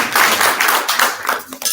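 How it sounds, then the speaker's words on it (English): At a fifth-grade Torah reading, a group claps hands in a quick, steady rhythm, close by and fairly loud, over a brief stretch. "a big round of applause for that."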